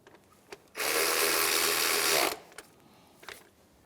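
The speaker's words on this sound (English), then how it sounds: "And we'll snug that bolt up." Socket ratchet clicking rapidly as a bolt is snugged on a 2003-2011 Honda Element during a serpentine belt tensioner replacement, one dense loud burst of about one and a half seconds between small clinks, close up.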